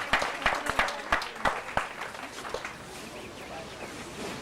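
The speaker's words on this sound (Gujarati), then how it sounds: "હવે જરાક વધારે તાળીઓ પાડજો પ્લીઝ" Clapping from an audience at a temple ceremony during a bhumi pujan and yagya, a short burst of applause that fades into murmuring crowd noise and speech.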